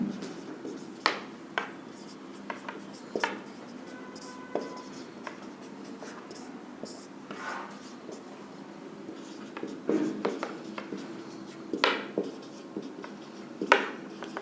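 A teacher writes on a board during a classroom lesson, with scattered scratchy strokes and sharp taps spread across the stretch, soft and close, with no talking over them.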